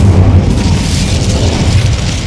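A fiery Incendio spell is cast in Hogwarts Legacy, a loud, sustained booming burst of flame roaring steadily for a couple of seconds with no voices over it.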